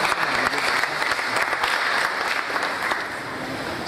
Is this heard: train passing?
no